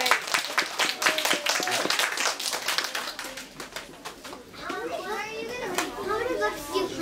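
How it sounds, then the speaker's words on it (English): Children clap in a bookstore for several seconds in a burst of sharp, scattered claps, then young voices chatter and call out while the clapping fades. "Give Fox a round of applause."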